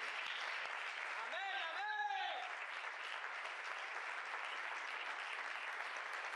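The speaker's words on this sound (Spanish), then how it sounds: "Un aplauso fuerte al Señor." Church congregation applauding in praise, a steady dense wash of clapping throughout with a brief sung or shouted voice rising over it early on.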